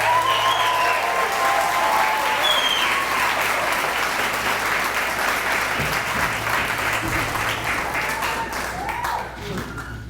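A large audience at a PechaKucha night in San Antonio gives loud, dense, sustained applause welcoming a speaker, fading slightly toward the end.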